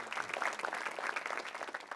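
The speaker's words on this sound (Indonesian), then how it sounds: "Tepuk tangan dulu." Studio audience applause at an Indonesian televised stand-up comedy show, a steady broad clatter of many hands clapping at moderate distance for about two seconds, with no talk over it.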